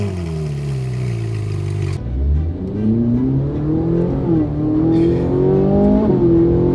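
A 15-year-old Ferrari's engine howls loudly on the road, revving up through rising harmonic sweeps after a brief shift, sustained and close with no talk.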